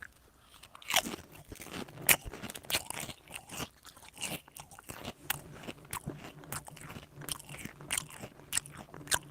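Someone chewing and crunching food close to the mic, with irregular crisp bites and wet mastication sounds over a quiet room.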